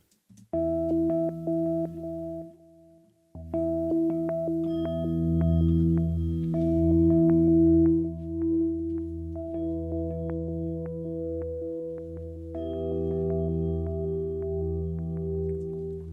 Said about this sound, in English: let's bring some sort of like delayed echoes to the beginning, like similar ideas like to Morse code